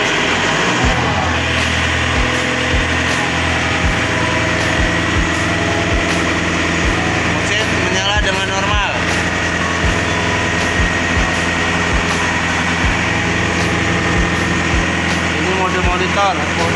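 A diesel engine on a PDS185S air compressor idles with a steady, loud low drone and even mechanical clatter, close and unbroken, while someone talks over it at times.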